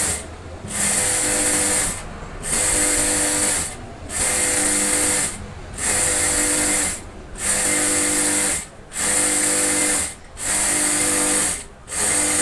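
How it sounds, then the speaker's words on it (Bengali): A sewing machine stitches straight down the middle of an elastic waistband on a pair of pants, running in steady loud bursts of about one and a half seconds with short pauses between them. "সোজা করে রাবারের মাঝখান দিয়ে একটা সেলাই দিয়ে নিচ্ছি"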